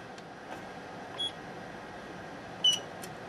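Two short, faint electronic chirps from an electronic load over a quiet hum, one near the middle and a slightly louder one later.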